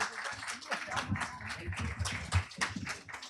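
Scattered clapping rises from a modest audience at a religion and culture conference, uneven and fairly sparse, with some voices mixed in.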